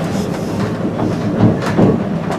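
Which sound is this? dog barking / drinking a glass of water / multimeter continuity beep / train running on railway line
train running on railway line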